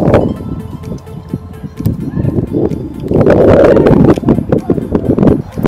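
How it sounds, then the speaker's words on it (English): Strong wind buffets the microphone in loud, rumbling gusts that swell and fade, growing heavier midway, with faint rustling beneath. "it's really windy"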